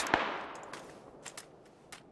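Gunfire in the PUBG battle royale video game: a sharp nearby shot opens, followed by several fainter, scattered distant shots echoing over a low background.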